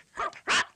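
A dog gives two quick barks, close and clear, with nothing else around them.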